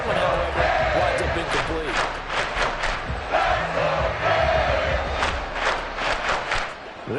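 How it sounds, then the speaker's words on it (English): A stadium crowd at a Bills vs Dolphins game in Madden NFL 24 roars and chants, loud and continuous, with rhythmic clapping and stomping surges and a play-by-play voice over the din. "this crowd turning up the decibel level"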